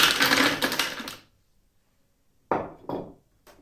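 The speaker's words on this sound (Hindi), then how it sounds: "1 कप बर्फ के क्यूब मैं ब्लेंडर में डाल रही हूँ।" A cup of ice cubes tumbles into a blender jar with a rattling clatter for about a second, followed by silence and then a few separate sharp clunks of single cubes landing.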